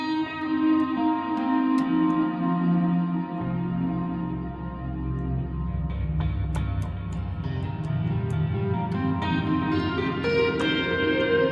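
Sustained electric guitar chords from an iFretless Guitar app played through an acoustic voice preamp ring out with a warm, reverberant acoustic-style tone, notes layering and changing partway through, with no talking.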